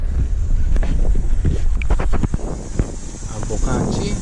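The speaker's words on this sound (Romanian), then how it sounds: "Bate și un pic vântul." Gusty outdoor wind buffets the microphone beside a Mercedes Actros truck cab, with rumbling low-frequency noise and scattered knocks and footsteps close by.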